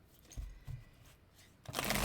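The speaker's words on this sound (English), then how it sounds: "Shuffle." A few soft riffling taps of tarot cards being shuffled, close up, followed by a brief louder rush of noise at the end.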